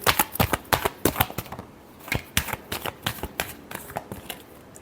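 Tarot cards get a brisk hand shuffle up close, a rapid run of sharp, crisp card slaps in quick irregular rhythm that carries on for the whole stretch with no talking.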